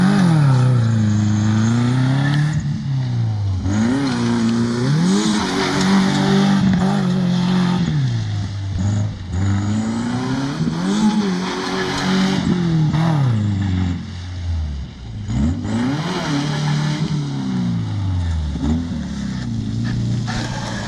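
A 2003 Subaru Outback cruises down a highway, its engine droning steadily up close, with pitch rising and falling as it accelerates and eases off, over constant road and wind noise.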